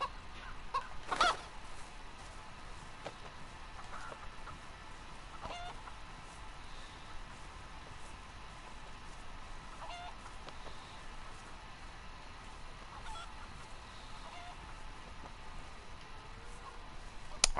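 A chicken clucking in the survival video game DayZ, one louder squawk early on followed by faint, scattered clucks over quiet background noise.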